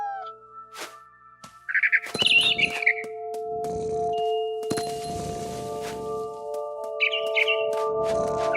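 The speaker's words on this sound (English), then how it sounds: "Then I heard chirping outside my window. It was a barn swallow going back to her nest." A barn swallow chirps outside a window in the video game What Remains of Edith Finch, giving short bright twittering bursts over quiet, steady game ambience, with soft thuds between calls.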